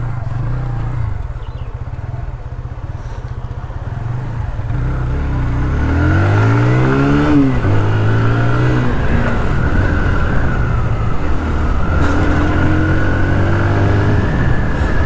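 A 2023 TVS Apache RTR 160 2V motorcycle engine hums at low speed, then revs up and accelerates, its pitch rising and settling into a steady ride.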